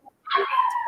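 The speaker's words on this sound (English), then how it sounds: "And I have a loud dog." A loud dog gives a single short bark or yelp, close to the microphone, after a brief quiet pause.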